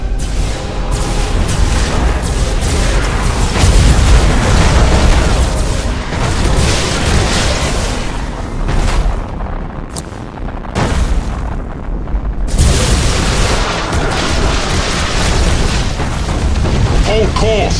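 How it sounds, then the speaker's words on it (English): Mines detonating in deep, rolling explosions during a space battle in Battlefleet Gothic Armada 2, a dense, loud wall of booms and rumbling blasts that continues throughout, with brief quieter gaps and game dialogue mixed in. "Tell them to detonate the mines. That explosion should clean our tails of these traitors."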